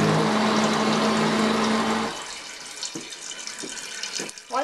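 A Saniflo toilet tank from 2000 with a worn Fluidmaster fill valve and flapper fills with water, a loud rushing hiss that cuts off after about two seconds, followed by fainter trickles and drips.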